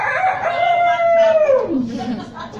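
A rooster sound effect crows once, loud and close, a long sustained call that slides downward at the end.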